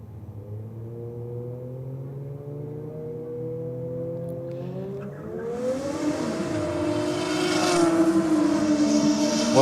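Drag racing cars, one a Toyota Supra, sit staged on the strip and then launch, with engines rising from a low idle rumble into loud, climbing revs and building roar.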